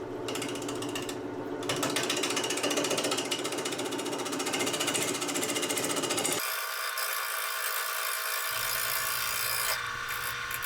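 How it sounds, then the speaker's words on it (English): A wood lathe spins a scrap wood blank mounted on a faceplate, a loud steady rattling mechanical drone that continues without pause, its tone shifting partway through as the cut changes. "I've got this piece of wood mounted onto the lathe using a faceplate"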